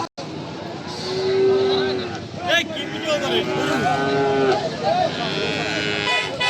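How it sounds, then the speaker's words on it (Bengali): Native bulls and other cattle arriving at a busy Bangladeshi cattle market, with loud lowing and bleating calls over a crowded din, and people talking throughout. "এই যে একটা দেশি ষাঁড় গরু চলে আসছে"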